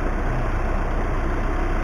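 A Volkswagen Crafter van engine idles close by, giving a loud, steady low hum with an even mechanical throb and a constant high whine above it, with no speech.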